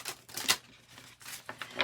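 A Golden Tarot card deck being shuffled, with quick crisp riffling bursts of cards, close and fairly loud, two or three rapid flurries with short pauses between.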